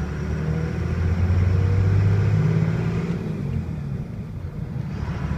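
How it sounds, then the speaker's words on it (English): A Cummins diesel dually pickup with a six-speed manual shifts into third gear, its engine rumbling steadily close by with a deep drone that eases slightly after the shift, and no talking. "Going into third gear right there."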